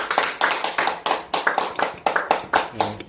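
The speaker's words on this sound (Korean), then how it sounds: "박수 한번 치시죠." A church congregation claps in unison, with sharp, regular beats in a quick rhythm, close and distinct, ending with a brief voice.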